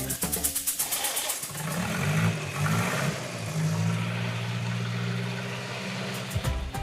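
The four-cylinder engine of a Peugeot 201 hot rod restarts after 35 years idle, first cranking in rapid pulses, then catching and running with a steady rumble and slight revving, heard up close.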